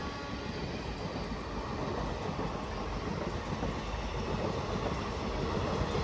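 A train rumbles steadily through Ettimadai railway station in rain and fog, its low, dense roar of wheels and carriages holding near and constant throughout, gradually swelling slightly louder toward the end.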